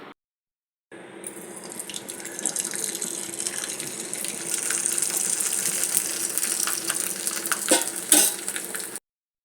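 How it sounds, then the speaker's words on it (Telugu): Dried sago vadiyalu fry in hot oil with a dense, continuous crackling sizzle up close. It holds steady for several seconds with brief clinks and stirring sounds, and no one speaks. "ఇదిగోండి సగ్గుబియ్యం వడియాలు వేయించాను."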